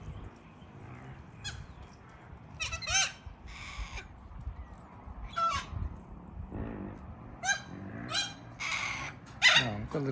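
Wild cockatoo and corellas let out harsh, scratchy screeches in repeated bursts at moderate distance, with several birds calling over one another.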